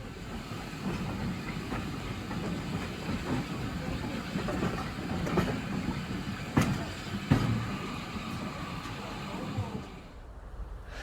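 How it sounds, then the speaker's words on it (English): A steam train rumbles steadily through the Yorkshire countryside with a low rolling roar and occasional clacks and knocks, heard from inside, with faint voices in the background. "here's just some noises and sounds and ambience from a brief trip that we took on a steam train"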